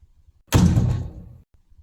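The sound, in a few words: heavy office door being gently closed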